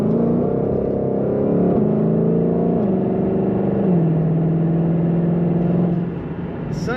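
A 2022 Ford Mustang Shelby GT500 Coupe's engine and exhaust rev in a loud, sustained drone, rising and shifting pitch in steps through the gears before easing off near the end.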